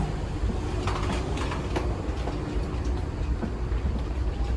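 Steady low rumble inside a moving Dubai Metro train, with rattling and clicking over continuous rolling noise, no voices.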